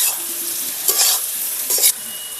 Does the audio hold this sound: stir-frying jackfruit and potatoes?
yes